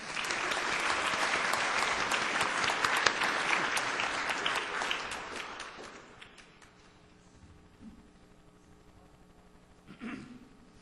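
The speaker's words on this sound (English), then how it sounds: "Applause, please." A theatre audience at a follies stage show gives a dense, loud burst of applause lasting about six seconds, then dies away into a quiet room with a few faint stray sounds.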